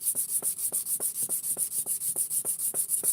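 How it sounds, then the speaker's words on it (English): Rhythmic back-and-forth hand sanding of toy handcuffs, a steady scratchy rasp repeating about four strokes per second, close and even. "I'm gonna go ahead and sand this down a little bit better"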